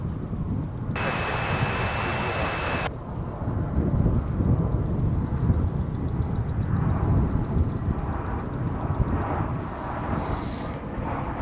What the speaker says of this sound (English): Here comes Viva Aerobus from Monterey